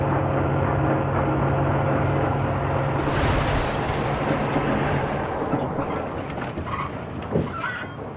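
A train rolls past a level crossing at Lac La Biche, Alberta, where the crossing lights are not working; a loud, steady rumble of wheels and railcars fills the whole stretch, with a faint high tone and a slight easing toward the end.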